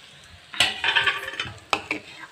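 Large-cut chopped onions tipped into a hot pan for spicy noodles: metallic clatter and scraping of a utensil against the pan in several bursts over a light sizzle, close up.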